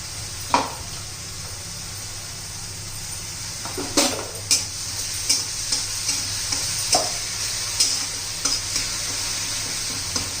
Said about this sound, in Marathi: आता मिरचीचं जरा कच्चेपणा घालवेपर्यंत तुपात परतून घ्यायची आहे